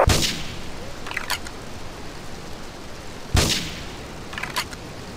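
Two sharp gunshot-like blasts ring out several seconds apart in Grand Theft Auto III at Portland Harbour, each followed by fainter cracks, over a quiet noisy background.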